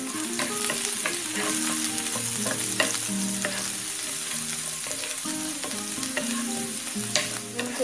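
Beans sauté in hot ghee in a pan for vegetable fried rice, with a dense, even sizzle and steady stirring scrapes up close, over faint tonal background music.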